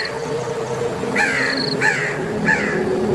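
A crow caws three times in quick succession, each harsh call clear and fairly close against a soft, continuous outdoor background hiss.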